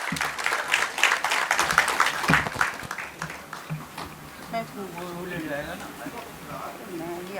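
An audience applauds after a Hindi stage play, a loud, dense patter of clapping that fills the hall and then fades while someone speaks over it.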